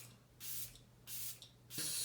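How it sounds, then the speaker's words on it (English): Peach and Lily Glass Skin Veil Mist setting spray from a glass bottle, three close, soft hissing pumps of fine mist in quick succession with short pauses between, no talking. "Super fine mist."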